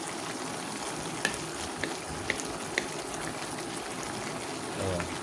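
Chayote, cabbage and chicken sauté in a pan with a faint, steady sizzle, broken by a few light clicks of a utensil stirring against the pan.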